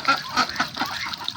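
Chinese geese on a village duck farm give a run of loud, close honks and nasal calls, several birds overlapping in quick succession with no talk.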